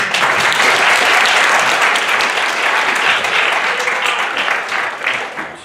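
Dense, steady applause from the audience at the Txiki Festival 2015 opening ceremony, greeting the festival president; loud, continuous clapping that stays full for the whole stretch and fades slightly at the end.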